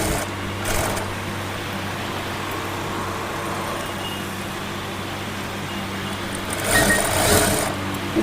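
A sewing machine stitches a net strip onto the edge of a frock with a continuous, close motor whir and rattle. The whir swells briefly near the start and grows louder toward the end. No one speaks.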